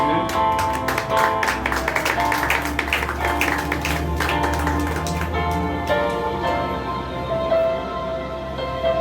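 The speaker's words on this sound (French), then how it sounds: "Applaudissez la présence de Dieu." A church congregation claps together in a dense, rhythmic burst during a Sunday service. Sustained musical tones run beneath the clapping, which thins out toward the end.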